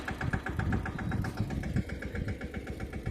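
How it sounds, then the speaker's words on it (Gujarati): A tractor engine runs on a farm field during sowing, a steady mid-pitched chugging throb with regular pulses, fairly close and unbroken, with no talking. "હવે ટ્રેક્ટર જાય છે"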